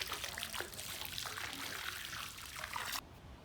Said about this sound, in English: So now I'm going to put my chemicals from my winterizing kit into the pool, and I'm going to spread it around the pool